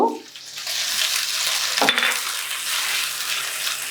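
Sliced onions fry in hot oil in a pan as a little water is added for a mutton dish. A loud, steady hiss and sizzle fills the whole stretch, with a brief stir or clatter midway and no talking.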